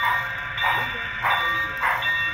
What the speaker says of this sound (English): That's exactly what a Santa Fe bell sounds like.